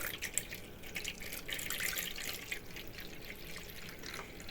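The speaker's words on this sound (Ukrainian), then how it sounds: "Далі сюди додаємо звичайну воду." Plain water trickles and splashes faintly into a bowl of 100% rye bread dough, a soft continuous pour with small drips, with no voices.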